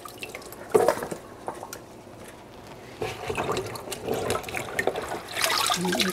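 Clean water runs and trickles into a bowl in a home kitchen where fried cardoon is being made, faint at first, then a steadier splashing pour builds toward the end.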